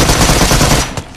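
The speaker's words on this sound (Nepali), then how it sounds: "ओ सोल्टी बरु अटो गन फ्री फायर हान्दै गएको भाइ" Rapid automatic gunfire from the battle royale game Free Fire rattles in a dense, loud burst, then cuts off into a final single shot.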